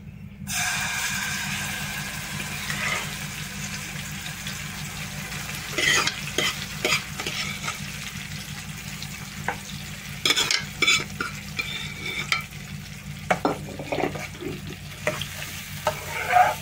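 Lentils tipped into a hot tempering and stirred in the pan: a sharp burst of sizzling at the start, then steady frying crackle with spatula scrapes and knocks against the pan.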